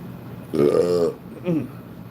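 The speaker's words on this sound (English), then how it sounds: "I got the burps there." A man lets out a couple of loud, drawn-out burps during a woodworking livestream, one long belch followed by a shorter one, close to the mic with no talk over them.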